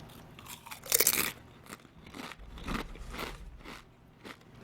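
Loud crunching and chewing of Doritos tortilla chips close to the mic, with a sharp burst of bites followed by several quieter, irregular chewing crunches.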